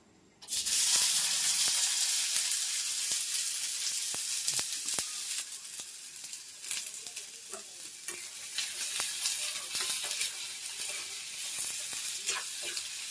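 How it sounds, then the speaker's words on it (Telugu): Finely chopped green chilies and onion fry in plenty of oil for an egg scramble, a loud continuous sizzle that bursts in suddenly and holds for several seconds, with scattered spatula scrapes and no voices. "ఇప్పుడు ఇందులో సన్నగా తరుక్కున్న పచ్చిమిర్చి, ఆనియన్ వేసేసుకుందాం."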